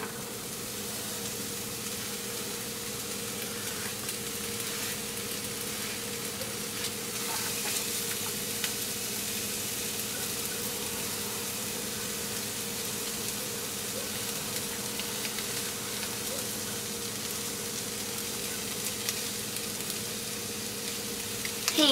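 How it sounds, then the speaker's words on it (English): Onions frying in a hot, lightly smoking pan while making pasta carbonara, giving a steady, continuous sizzle with a faint underlying hum, heard close and alone throughout. "So I'm gonna add my onions."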